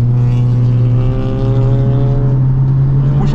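Race car engine under hard throttle during a driving lesson, a loud, steady, droning roar with a strong low hum that holds full power throughout without letting up.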